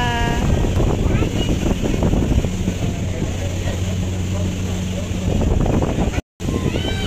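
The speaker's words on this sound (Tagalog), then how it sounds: "Super duper hangin." Strong coastal wind at Camaya Coast, Bataan buffets the microphone in a constant loud roar, with voices talking faintly beneath it and a brief dropout near the end.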